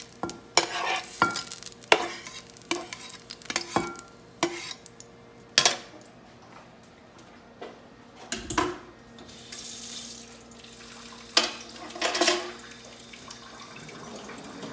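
Basmati rice and mushrooms stirred together in a bowl: scattered scraping and clinking strokes, fairly close but soft, with irregular pauses between bursts and a faint steady background hum.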